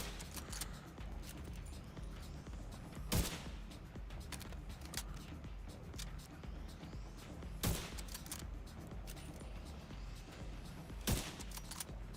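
Gunshots ring out in The Division 2 as a player fires at a Legendary Chunga enemy's backpack, three loud, isolated reports spaced several seconds apart over a low, busy background of softer clicks and shuffling.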